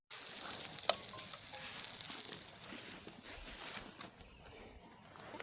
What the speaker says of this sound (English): We are frying up our one and only fish that we caught.